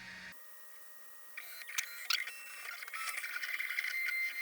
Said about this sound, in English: I'm not sure what it's printing exactly.